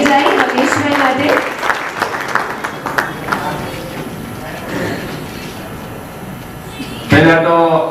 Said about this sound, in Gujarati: જોરદાર તાળીઓ પ્લીઝ થઈ જાય રમેશભાઈ માટે